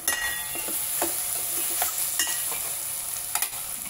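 Onions sizzle steadily in a hot pan while a spoon scrapes and stirs them in several distinct strokes, with no talking over the close, continuous frying.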